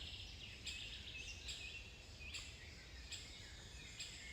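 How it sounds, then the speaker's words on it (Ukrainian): Birds sing in a green summer forest: a few bright, repeated calls and trills at moderate distance over a soft background hiss, with insect-like chirping and no voices. "співають пташки"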